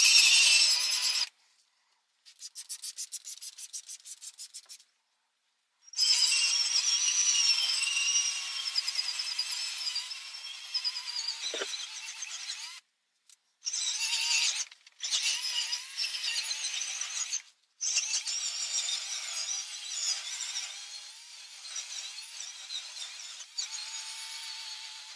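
Cheap cordless drill with a scrub brush working over the carpet of a 2004 Ford F-250 work truck, a high whirring scrub in repeated bursts broken by short silences, fairly close.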